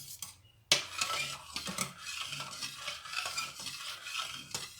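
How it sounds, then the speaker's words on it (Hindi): A spoon stirs a pistachio dessert mixture in a pot on the stove. After a brief lull the scraping and swishing start abruptly and run on steadily as rhythmic, close strokes with light metallic contact and no talking. "ज़्यादा ये हमें ये ऐसा ऐसा डालना चाहिए और चम्मच को मुसलसल हिलाना चाहिए।"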